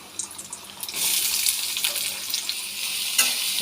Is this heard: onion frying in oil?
yes